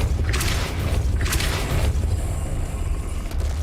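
A Depulso spell in Hogwarts Legacy sets a mechanism moving: two quick, bright whooshing bursts land about a second apart over a steady low rumble, followed by a softer grinding shift of machinery.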